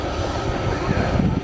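An aircraft taxis at Manchester Airport, its engines giving a low, steady rumbling whine at moderate distance with no talk over it.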